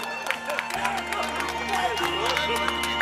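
Audience applauding and cheering for Vilma at a celebration in Vila Ré, steady clapping and crowd noise throughout, with a voice talking over it.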